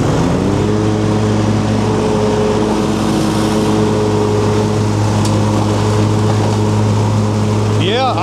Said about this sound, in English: I'll go ahead and blow off the driveway, and I'll blow it all that way.